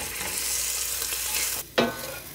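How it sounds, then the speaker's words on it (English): Garlic sautés in a pan with a continuous bright sizzle, briefly dipping before a sharp stir flares it up again, close and unaccompanied by speech. "I'm going to give that a little bit of a stir, and I'm going to saute it for about 3 minutes"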